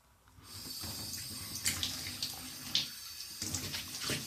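Water is poured from a tap-like stream onto a stained block to soak it, a continuous splashing flow with uneven surges, close and fairly loud, with no talking.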